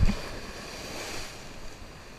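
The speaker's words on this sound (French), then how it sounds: "c'est normal qu'il y ait des vagues comme ça" Sea waves on the Finistère coast of Brittany wash in with a broad, soft hiss mixed with wind noise. The surf stays steady and fairly quiet after a brief low thump at the start.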